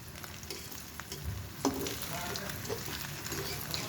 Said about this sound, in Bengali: আর এই যে দ্বিতীয় ব্যাচ আমি ভাজতেছি